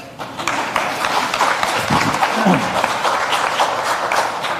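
A crowd at a chamber of commerce voter forum breaks into applause, a dense burst of clapping that swells and carries on steadily for several seconds, with some voices mixed in.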